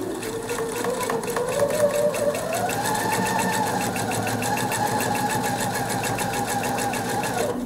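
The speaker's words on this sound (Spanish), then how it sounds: "colocamos la tela para coser a pata, podemos también marcarla con el retulador como hemos hecho antes y empezaríamos a coser" A sewing machine stitches quilt fabric in a steady, fast mechanical whir with rapid needle ticks, its motor pitch rising and falling slightly throughout, with no voices.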